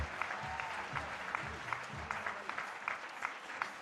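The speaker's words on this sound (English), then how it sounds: "So they deserve a big round of applause." An audience applauding finalists at a national student competition event: steady, dense clapping from a large crowd, held at an even level throughout.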